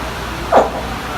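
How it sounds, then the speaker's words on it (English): Baby alligator gives a single short chirping grunt, brief and moderately loud over steady outdoor background noise near a lake. "This sound is a baby alligator calling for mommy."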